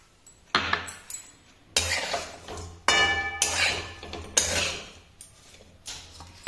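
Rice tipped into an oiled pan and stirred for pulao, with a steady series of metallic scrapes and clinks from a utensil against the pan, close and moderately loud, no talking.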